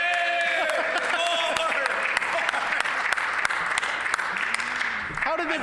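Clapping from members in a legislative chamber, loud and continuous, with louder individual claps standing out. Voices and shouts carry over the applause, and a speaker talks through parts of it.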